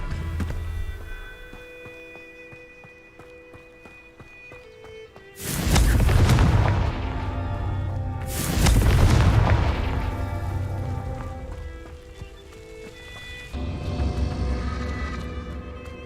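Two loud booming blasts of the Confringo fire spell in Hogwarts Legacy go off a few seconds apart over a quiet music bed, each one a sharp burst that rumbles away, followed by a softer third swell.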